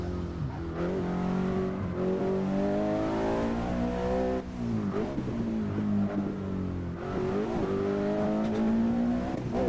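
In the Assetto Corsa racing simulator, a car engine drones and revs, its pitch climbing and falling repeatedly through gear changes and throttle lifts, with a continuous loud mechanical whine and no talking.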